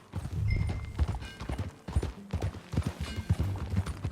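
Horse hooves from the video game Red Dead Redemption 2 clip-clop in an uneven trotting rhythm on hard ground, fairly close, with a brief pause midway before the steps resume.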